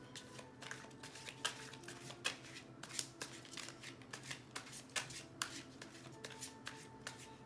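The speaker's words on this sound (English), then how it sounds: "Give it a couple shuffles." Tarot cards are shuffled softly and repeatedly, a series of quick riffling bursts close by, fairly quiet, with no talking.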